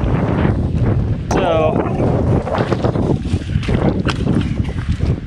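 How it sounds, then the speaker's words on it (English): Gusty wind on a rainy, muddy gravel bike ride buffets the microphone with a constant low rumble, while a person speaks briefly over it. "It is windy and rainy."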